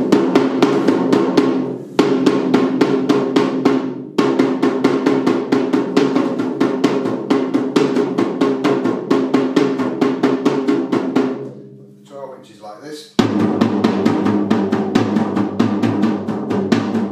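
A 10-inch tom drum with newly fitted, freshly tuned heads, struck repeatedly with sticks in quick, even strokes: close, punchy hits in steady runs with a couple of short pauses and a brief lighter passage.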